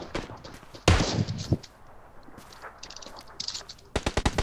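Gunfire in the mobile battle royale PUBG New State: a loud opening burst, scattered distant shots, then a rapid string of close sharp shots at the end, with players talking in between.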